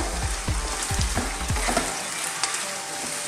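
Onions hit hot oil in a pot with chicken for Ethiopian doro be misir, a loud steady sizzle with a few scraping stirs early on, no voices.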